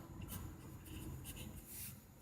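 An ASA Nauka fountain pen scratches softly across paper in short, faint strokes, a quiet continuous scritching with small bursts as letters form.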